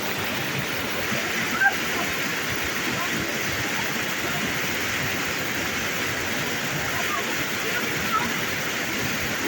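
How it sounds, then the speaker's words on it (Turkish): A waterfall along the shore of the Atatürk Dam lake gives a loud, continuous rushing roar of falling water, close and unbroken. "Atatürk Baraj Gölü kenarındaki şelalelerin içinde yürümeye gelsinler."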